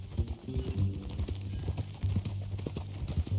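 Horse hooves in the Red Dead Redemption 2 video game: a steady, close clip-clop of a walking horse, alone and fairly quiet.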